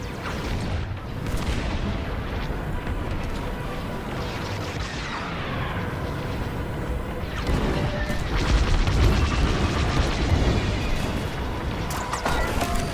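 Laser fire and explosions from the Star Wars Squadrons space-combat game come as a dense, loud barrage of blasts, mechanical clatter and rumbling booms, building heavier in the second half, with no voices.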